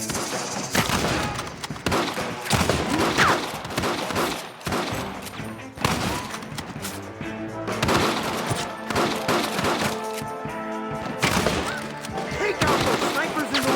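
Dense gunfire from a Red Dead Redemption shootout crackles almost nonstop, with overlapping rifle and pistol shots and heavy thuds layered over in-game voices shouting, loud and busy throughout.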